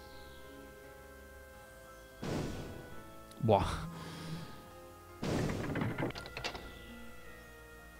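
Explosions from the Might and Magic VI role-playing game: two broad, noisy bursts a few seconds apart, fairly loud over quiet background, with a short voiced exclamation between them.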